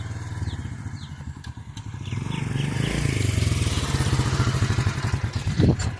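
Motorcycle engine running close by, a steady mid-pitched throb that builds slightly with some rattling clatter and a brief sharper burst near the end, with faint voices in the background.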